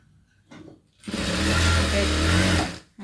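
A sewing machine runs in one sustained burst while stitching the side joint of a blouse, a close, steady mechanical whir following a few faint handling sounds.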